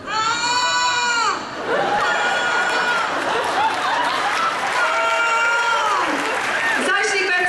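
A woman on a convention panel imitates a baby crying into a microphone, loud wavering wails repeated in several drawn-out bursts, with faint crowd reaction underneath.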